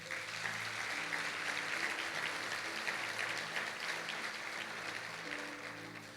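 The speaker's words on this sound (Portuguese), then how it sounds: "Então dê um aplauso a Ele." A church congregation at a Pentecost service breaks into applause, a dense, even wash of many hands clapping that holds steady throughout, with only faint background tones beneath.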